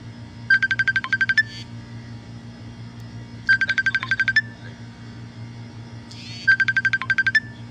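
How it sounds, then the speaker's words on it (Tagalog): A phone ringtone for an incoming call plays three separate times, each a short burst of rapid repeated electronic tones with pauses between bursts, loud and close over a steady low hum, with no talking. "Wait lang po, may tumatawag."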